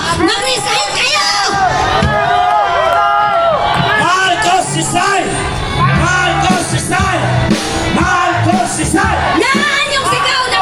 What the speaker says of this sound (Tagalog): Yan yung sigaw ng taong bayan!